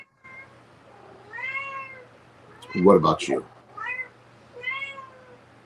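A cat meows several times, drawn-out rising and falling cries spread across a few seconds, with a brief burst of human speech in the middle and a steady low hum underneath.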